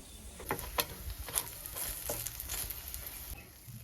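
Leafy greens fry in oil with garlic, a soft but close sizzle broken by light stirring clinks and scrapes, fairly quiet throughout.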